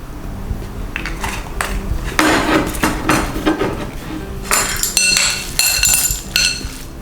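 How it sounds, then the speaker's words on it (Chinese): Utensils clink and scrape against a bowl while seasoning, salt and pepper are stirred into a dumpling-style filling with sesame oil, a busy run of close metallic and glassy knocks with no talking. "把调味料搅拌均匀"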